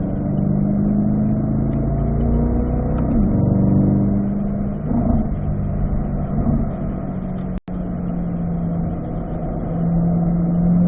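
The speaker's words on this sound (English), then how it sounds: "this is 4th gear where my Camaro is at, 4th gear" A Chevrolet Camaro engine drones steadily in fourth gear on the Spring Mountain race track, a loud continuous mid-pitched hum with shifting tones as it accelerates, no talking heard.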